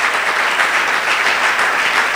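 Applause from a church congregation at a Sunday worship service, a steady wash of many hands clapping together, loud and close, with no voices over it.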